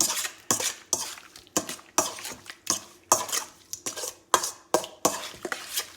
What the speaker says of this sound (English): we've got lemon juice, and we mix that.